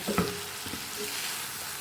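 Bitter gourd and tomato masala sizzles in a pan as chili powder is stirred in, with a brief scrape of the spoon near the start over a steady frying hiss.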